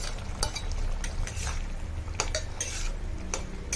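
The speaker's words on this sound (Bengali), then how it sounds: "আলুর সঙ্গে ভালো করে নেড়ে চেড়ে একটু জল দিয়ে দিলাম" A utensil scrapes and clinks against a cooking pan as potatoes and fried shrimp are stirred together with a little water, irregular metallic taps over a soft steady background without talk.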